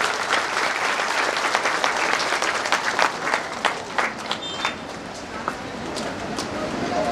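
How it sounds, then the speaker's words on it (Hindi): Steady crowd clapping fills a hall at an Ambedkar Jayanti library event and stays dense for several seconds. Individual claps stand out more sharply toward the end, and a murmur of voices runs underneath. "ताली बजते रहनी चाहिए।"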